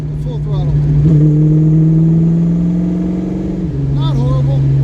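A carbureted car engine pulls in 4th gear at about 50 mph as it goes from no throttle to full throttle. A steady low drone rises slightly in pitch and holds there, with someone talking over it.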